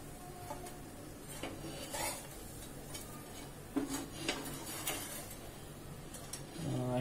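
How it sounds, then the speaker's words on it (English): Freshly cooked cookies are lifted off a hot pan and set onto a plate in a home kitchen, giving close, scattered clinks and scrapes of utensil against metal and dishes at an irregular rhythm, with no talking. "I'm collecting all these cookies to the plate."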